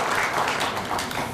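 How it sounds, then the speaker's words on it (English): Audience applause at a district council awards ceremony, a dense steady wash of many hands clapping in a hall, continuous and fairly loud throughout the short burst. "Now, absolutely, we can clap"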